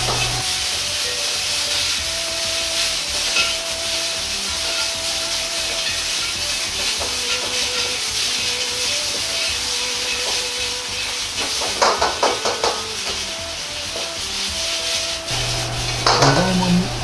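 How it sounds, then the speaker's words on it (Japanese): Potatoes and chikuwa stir-fried over high heat in a pot, giving a steady close sizzle and hiss with scraping and rubbing as they are tossed and stirred, plus occasional sharper crackles toward the end. "焦げないようによく混ぜながら強火で炒めていきます。"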